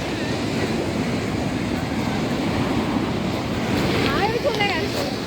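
Sea waves breaking on the beach at Puri, a constant broad wash of surf mixed with wind buffeting the microphone, with faint distant voices near the end.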